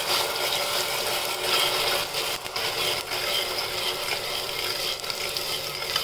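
Onion paste with bay leaf sautéing in oil, giving a continuous close hissing sizzle with faint scraping and stirring noises throughout, and no voices.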